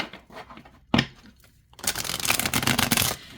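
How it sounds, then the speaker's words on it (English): A tarot deck with slightly stiff cards is shuffled, a brief riffle snap followed by a longer, louder dense burst of cards flicking together, close and alone. "All right, let's see how it shuffles."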